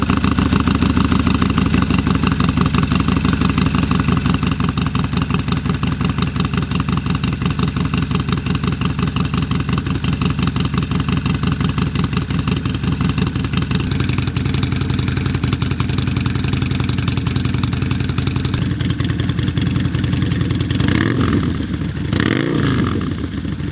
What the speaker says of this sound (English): let's hear what this bike sounds like